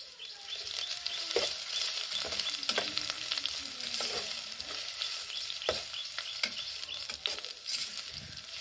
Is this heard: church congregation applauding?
no